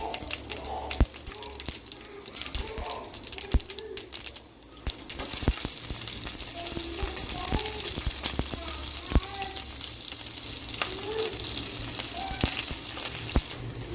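Peanuts and seasoning seeds sizzling in hot oil for coconut rice, a steady crackling fry that runs throughout, with a few sharp pops and a brief dip partway through, mid-distance and fairly quiet.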